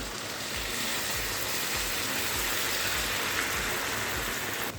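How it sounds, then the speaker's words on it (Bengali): Hot water pours steadily into a potato and spice curry cooking over a raised gas flame, a continuous close rushing splash with no voices. "এর মধ্যে ঝোলের জন্য দিয়ে দিচ্ছি গরম জল"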